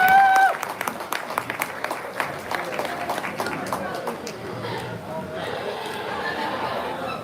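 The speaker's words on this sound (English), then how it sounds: "let's give all those seniors a big round of applause as we get into our next division" Audience applause rises at a 2022 hog show after the senior showmanship division, a dense wash of clapping that stays fairly steady under a talking announcer's voice.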